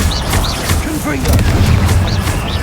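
Confringo fire spell explosions in Hogwarts Legacy, a run of deep booming blasts rumbling under a voice that calls out in between.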